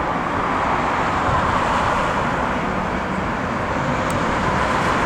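A LOT Polish Airlines Boeing 737 landing at Heathrow, registration SP-LLF, gives a steady, broad rumbling roar with a rattly edge that holds at constant loudness throughout, with no talk over it.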